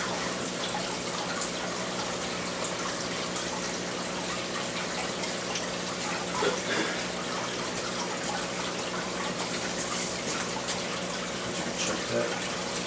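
Tap water runs in a steady, continuous hiss and splash, close and fairly loud, with no pauses from start to finish.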